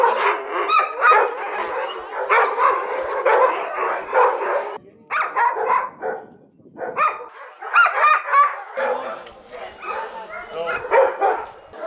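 Truffle-hunting dogs on a truffle farm near Barcelona bark repeatedly in quick, loud bursts, with people talking over and between the barks throughout.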